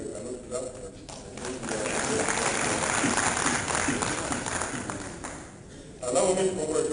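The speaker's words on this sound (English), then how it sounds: "If people are tired, they cannot clap," A crowd claps in a steady wash of applause that swells and fades, with a voice speaking over it at the start and end.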